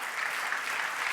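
Brief burst of audience applause at an induction ceremony, steady even clapping from a crowd, with no voices over it.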